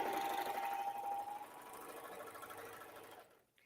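A sewing machine stitches a meandering quilting pattern through a quilt sandwich with batting, producing a steady, close mechanical whir with rapid stitching pulses that fades out near the end.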